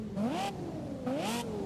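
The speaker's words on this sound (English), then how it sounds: "this V10 sounds so good" A Lexus LFA's V10 engine revs twice in Forza Horizon 5, each rev a rising, smooth high-pitched wail, close and clear with no talking.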